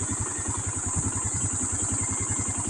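A Yamaha Mio Soul scooter engine idling just after being started, a steady close putter with rapid regular firing pulses and a high whine above, with no talk.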